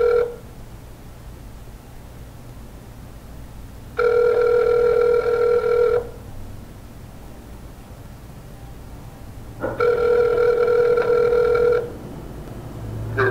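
A telephone rings loudly in two long bursts, each about two seconds, separated by a pause with faint background hiss.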